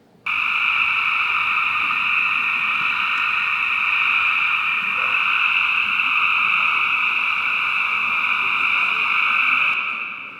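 Dense chorus of calling tree frogs at night, a loud continuous buzzing wall of overlapping calls that holds steady throughout with no pauses.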